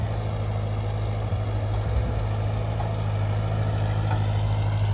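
A farm machine working a dirt field in first gear, its engine running at a steady, loud, low drone with no change in pitch and no voices.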